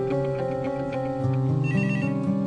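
A phone ringtone plays a repeating melodic pattern of electronic tones, moderately loud and steady, with no voices.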